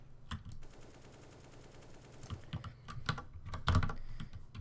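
Rapid clattering bursts of AK and M4 spray fire from a Counter-Strike match, shots pattering in short strings into a wall, faint and fairly close, with several busier volleys near the end.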